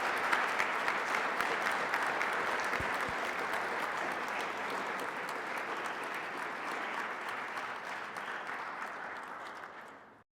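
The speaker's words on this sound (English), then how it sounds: "let's give Dr. Foreman a round of applause, and thank you for coming today" An audience gives sustained applause after a lecture, a dense, steady wash of many hands clapping for about ten seconds before it fades out at the end.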